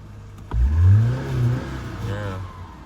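A Subaru EJ25 car engine revs up sharply once, holds briefly, then settles back toward idle, close and fairly loud.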